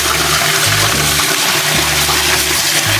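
Steady rushing water runs loudly and continuously as wheat is washed in a sieve, with a faint pulsing hum beneath.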